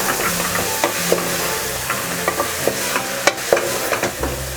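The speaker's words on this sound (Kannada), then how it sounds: "ಒಂದು 2 ನಿಮಿಷ ಹೀಗೆ ಫ್ರೈ ಮಾಡ್ಕೋಬೇಕು." Mushrooms and peas stir-fried for mushroom pulao, a soft steady sizzle in the pan broken by repeated scrapes and clicks of a spoon stirring, close and continuous with no voices.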